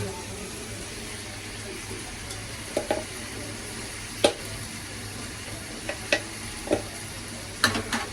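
Crab sizzles in a pan after ghee is added, a steady low frying hiss broken by occasional sharp clinks of a utensil against the pan, with no talking.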